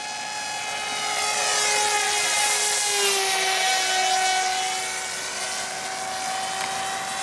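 A GT-21 modular prototype model aircraft passes by at half throttle with its flaps up, its steady high electric whine swelling as it nears and fading as it flies off, heard alone.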